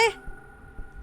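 A cat in the indie horror game Peter's House gives one short, clear meow at the very start, then only a faint steady hum and low thumps remain.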